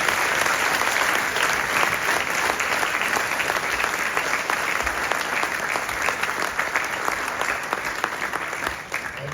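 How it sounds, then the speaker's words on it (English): A church congregation applauds during a service, a loud and steady wash of many hands clapping that holds without a break and tapers slightly at the end. "Come on, let's clap one more time."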